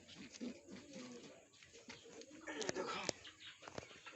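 Two pairs of young pigeons cooing at a home loft, soft low murmuring calls spread through the clip, with faint background voices and a few sharper clicks near the end.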